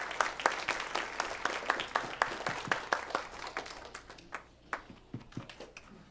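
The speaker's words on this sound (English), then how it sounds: "let's give him a big hand, a big welcome hand for Michael" Audience applause greets a speaker at a travel talk: a small crowd claps in sharp, separate claps that start fairly dense and thin out to a few scattered claps near the end.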